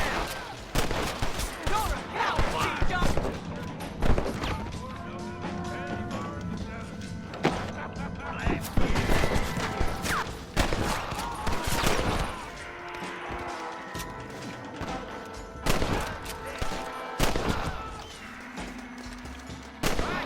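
Rifle shots ring out in a Red Dead Redemption shootout, sharp cracks scattered irregularly across the whole stretch amid thuds and impacts, with voices and game noise running underneath.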